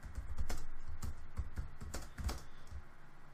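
Typing on a computer keyboard during PCB layout work, a quick uneven cluster of faint key clicks at close range with no talk.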